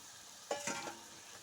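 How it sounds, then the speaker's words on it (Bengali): Previously fried jackfruit drops into a pan of spiced masala for a Bengali jackfruit-prawn curry. It gives a brief, faint sizzle and a few stirring scrapes, then settles into a low hiss. "এবার দিয়ে দিচ্ছি ভেজে রাখা এঁচড়।"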